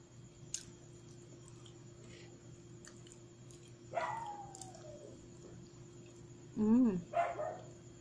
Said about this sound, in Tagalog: Pasensya na po kayo sa mga ingay-ingay sa labas, yung mga aso kumakahol.